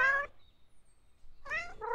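Two short cat meows in a video game, separated by a brief quiet pause, clear and close.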